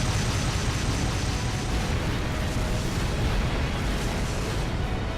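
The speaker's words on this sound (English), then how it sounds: "I can't hear you over the explosions." Explosions rumble through a video game battle involving tanks: a steady, heavy wall of blasts and booms that continues unbroken for several seconds, loud and close.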